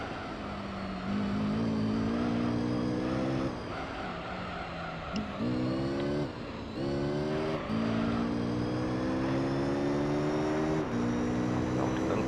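Mazda RX-7 engine in Gran Turismo 3 drones loudly and steadily, rising through the gears in repeated climbing sweeps with brief drops at each shift, close and continuous throughout.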